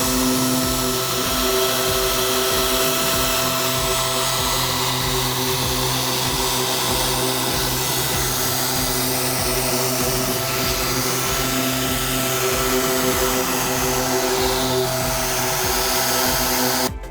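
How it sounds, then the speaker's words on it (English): A car polisher hums in a steady, loud, unbroken whine while polishing the hood of a BMW M235i with five-year-old uncorrected paint, close up, with no talk. "So we just finished polishing the hood."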